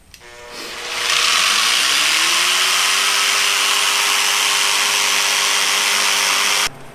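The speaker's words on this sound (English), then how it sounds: "retrim it with the jigsaw" A jigsaw trims a wooden zero-clearance throat plate for a table saw, spinning up in about a second into one loud, steady, hissing buzz of blade through wood that runs close and alone before cutting off abruptly.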